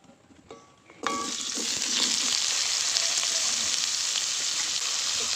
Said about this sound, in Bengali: এবার ঝিঙেগুলো ভেজে নেবো